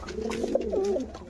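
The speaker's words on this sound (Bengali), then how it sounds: "দেখো লাল দম পেয়ার ডাকছে" A red-tailed pigeon gives a single short, throaty coo close by, soft and rolling, over a faint low background hum.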